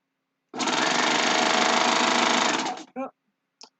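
A serger sewing machine stitching a zipper bag with boxed corners runs loud and steady for about two seconds, then stops, followed by two brief short whirs.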